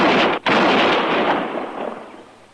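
A gunshot in an old-time radio western drama, a single loud blast at the start followed by a sharp cut and a long rumbling echo that slowly fades, with no talk.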